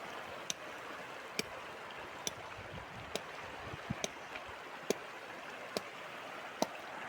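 A river flows near the Jholunge suspension bridge at Kerabari in Morang, giving a steady, soft broadband wash of moving water with a few sharp ticking clicks scattered over it and no talk.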